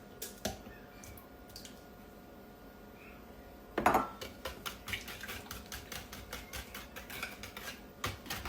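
A small whisk beating four large eggs in a bowl for oatmeal pie batter: one sharp clack, then a fast, steady run of light tapping clicks against the bowl, close and fairly quiet.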